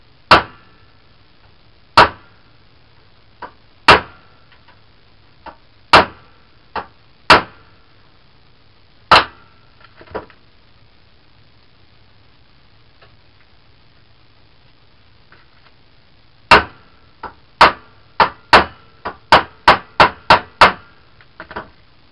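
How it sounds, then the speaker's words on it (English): Hammer blows striking a metal engine part while a piston stop tool is in use: sharp, loud, close impacts, first spaced a couple of seconds apart, then a faster burst of rapid strikes near the end, with no talking. "I don't want to spend all the time just beating the crap out of things with a hammer."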